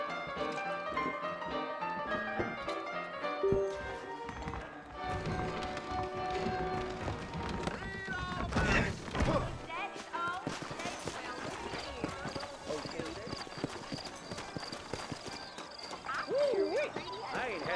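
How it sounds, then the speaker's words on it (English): Hooves clip-clop at a steady trotting rhythm beneath music and occasional voices, moderately close throughout; saddled horses in the video game Red Dead Redemption. "I got the horses saddled up and ready out front."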